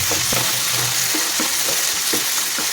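Tomatoes frying for a coconut-tomato chutney in a covered pan, a steady close sizzle with soft crackles and a few brief pops throughout.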